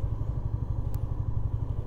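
A black Honda Gold Wing motorcycle idles nearby at a showroom, a steady low rhythmic engine throb with a faint clatter and one brief sharp tick midway.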